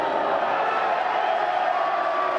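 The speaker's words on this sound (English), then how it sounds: "as you can hear by the crowd reaction, that wasn't a torpedo" Spectators at a country Australian rules football grand final, South Launceston versus Longford, murmur and groan as a long torpedo kick misses, a broad, steady crowd noise with no single cheer standing out.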